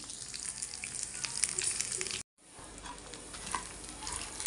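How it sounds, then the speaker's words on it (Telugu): Chana dal and green chilies frying in a pan for chutney, a faint continuous sizzle with scraping stirring sounds, broken by a brief cut partway through. "రెండు కలిపి చక్కగా పప్పు ఎర్రబడేదాకా వేయించాలన్నమాట"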